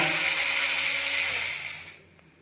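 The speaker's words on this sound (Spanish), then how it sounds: "vamos a retirar este conector que está aquí, estos dos tornillos que tenemos acá" A power screwdriver whines steadily while removing screws from a Titan water heater's circuit board, a close, loud continuous buzz that winds down and stops near the end.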